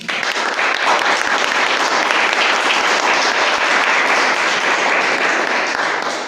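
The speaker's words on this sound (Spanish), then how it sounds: "Démosle un aplauso." Sustained applause from a conference audience, loud and dense clapping that stays even for several seconds before it tapers slightly.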